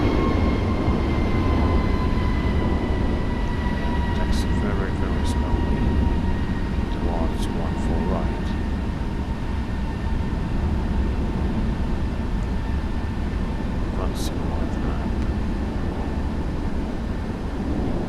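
Steady low engine rumble and faint high whine from a Boeing 777-300 jetliner taxiing very slowly at a narrow airport in Microsoft Flight Simulator, continuous and even throughout, with a few brief clicks and faint speech in the background.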